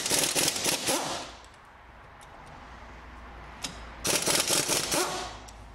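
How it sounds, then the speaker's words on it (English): A pneumatic impact wrench rattles off brake caliper bolts on a VW Passat in a garage, in two loud, rapid hammering bursts separated by a quieter pause. "Get the air gun on that, pop them off."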